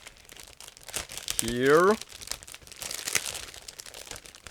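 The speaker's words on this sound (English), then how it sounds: "I will try to get the next plastic bag" Plastic bag crinkling as it is opened while unpacking a 1/48 scale model kit, a short loud rustle burst amid quieter handling noises, with brief speech nearby.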